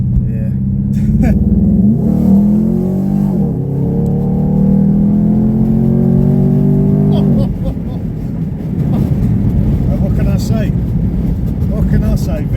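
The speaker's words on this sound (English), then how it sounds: "now we're just going to give it a little bit" A Jeep Grand Cherokee SRT8 V8 revs loudly up close, and its pitch climbs through several rising pulls. The engine then drops back to a rough, burbling idle.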